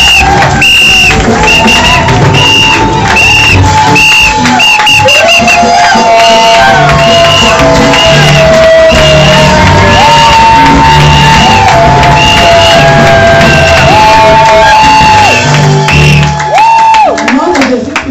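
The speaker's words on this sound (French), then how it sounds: "Ce matin, reçois les acclamations." Church congregation cheering and shouting acclamations during a Sunday morning service, a loud sustained crowd roar of whoops and yells over music, continuous and close.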